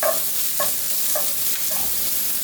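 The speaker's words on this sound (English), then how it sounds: "I'm just going to hit that with a quick stir." Chicken wings with black pepper being stirred in a pot, a few quick scraping strokes in a steady rhythm over a faint sizzle, close and alone.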